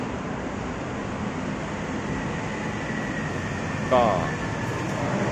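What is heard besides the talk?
elevated MRT metro train at Phetkasem 48 station, Bangkok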